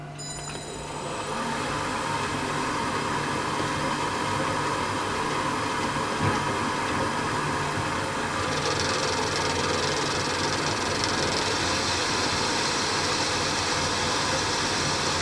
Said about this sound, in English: We're back in the bifid now and we're set up to bore the hole a bit bigger